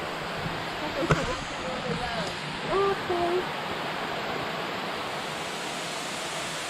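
Steady broadband rush of a river waterfall in San Sebastian, Puerto Rico, constant and close, with a brief voice heard over it.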